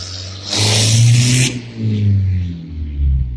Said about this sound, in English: some souped up car just drove past me